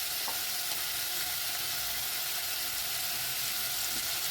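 A spoon works through vermicelli upma with peas and salt in a hot pan, giving a soft continuous sizzle and scraping hiss at a steady level, with no talk.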